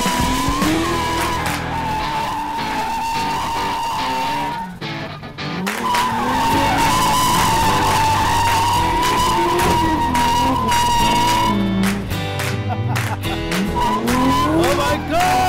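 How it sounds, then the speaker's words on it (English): A BMW M2 Competition spins donuts, its tires squealing in a long, loud, sustained screech over a roaring engine that rises and dips, with a brief lull midway before the skid resumes. "We are going to be doing donuts today, and I have this beast here."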